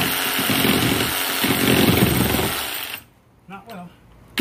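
A Sawzall reciprocating saw cuts into the wooden frame of an old shed door, giving a loud, rough, buzzing rasp for about three seconds before it stops and a few short, quieter sounds follow.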